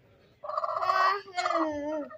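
A sitting hen brooding on eggs in a village lets out two drawn-out, wavering clucking calls, close and fairly loud, with a quiet pause between them.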